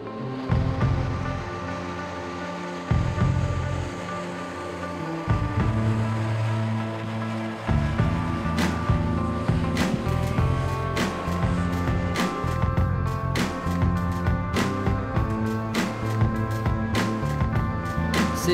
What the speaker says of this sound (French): C'est un engin glissant sur coussin d'air. Le moteur est bruyant mais la sensation unique.